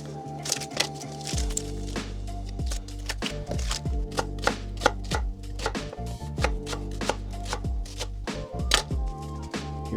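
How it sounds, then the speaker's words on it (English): A knife slices quickly through a medium onion on a cutting board, making a fast, steady run of crisp, close chopping taps with no voices. "So I got some onion here. I'm just gonna slice it up real fast."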